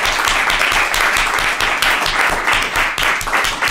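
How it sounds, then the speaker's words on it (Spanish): Loud, continuous applause rises from a live audience at a Spanish talk show, many hands clapping in a thick, close roar that holds steady throughout, with no speech on top. "Un aplauso muy fuerte, por favor."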